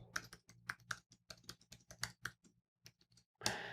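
Computer keyboard being typed on during a password entry, quick irregular clicks in short bursts with brief pauses, close and clear with no talk.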